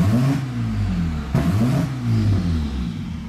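Boosted Honda Accord F23 engine revving at full throttle, a loud close droning roar with rising and falling pitch sweeps as revs climb and drop, heard from inside the car.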